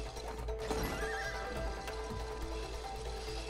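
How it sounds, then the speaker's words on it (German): A horse neighs and whinnies in the video game It Takes Two, with hooves clip-clopping under a steady low game-music bed; the call rises clearly near the start and fades out within a few seconds, and no one speaks. "Pferd."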